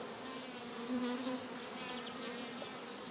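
Bees buzzing around an open beehive holding over thirty thousand bees, a dense, continuous close drone with no break.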